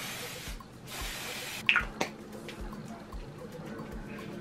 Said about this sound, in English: It is a mattifying waterproof setting spray.